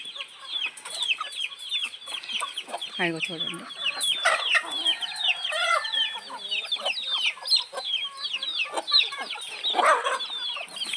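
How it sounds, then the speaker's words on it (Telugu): Hens and chicks clucking and cheeping close by, a busy chorus of overlapping chirps and clucks, with a brief spoken remark partway through. "ఇవి ఆ 2 కోళ్ళు పిల్లలు"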